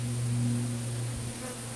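Honey bees buzz steadily at an active long Langstroth hive, a close, continuous droning hum with no voices.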